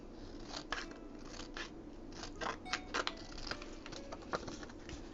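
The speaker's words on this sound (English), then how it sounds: "I know it's sacrilege cutting down a photo like this, but I'm doing it now" Scissors snipping through an old photograph for junk journal crafting, a steady run of close, crisp cuts and small paper crunches at moderate volume, with no talking.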